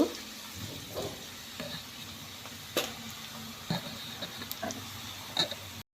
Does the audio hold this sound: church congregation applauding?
no